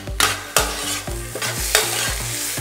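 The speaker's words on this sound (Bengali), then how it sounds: "এবারে দেওয়া হচ্ছে টমেটো কুচি, 2 টেবিল চামচ টমেটো কুচি দেওয়া হলো, দিয়ে এবার এটাকে নেড়ে ভাজতে হবে।" Two tablespoons of chopped tomato are stirred and fried in a hot pan, with a loud sizzle and about half a dozen sharp scraping stirs at a quick, irregular pace. Nobody speaks.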